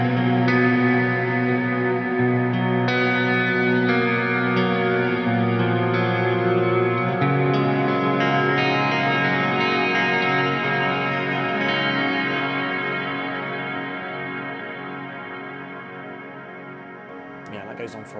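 Electric guitar played through a non-linear reverb pedal on a pedalboard rings out in sustained, shimmering chords with long swelling tails that slowly fade toward the end, a voice briefly heard underneath.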